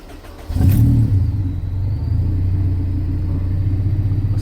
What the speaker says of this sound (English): So there we go, it's idling at about 1000 RPM.